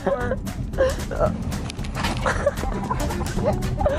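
A pet dog gives a series of short high yips and whimpers at a steady rhythm, close and fairly loud, with people talking over it.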